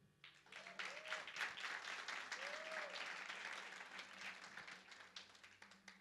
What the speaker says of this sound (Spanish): otro fuerte aplauso al Señor